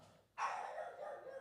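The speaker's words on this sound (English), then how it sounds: "that's an actual dog who just crossed the front door" One dog gives a short, sharp bark at a front door, fairly faint, set against a quiet room with no speech.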